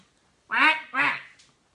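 Two loud, close duck quacks in quick succession, played as a sound effect against near silence, followed by a faint short squeak.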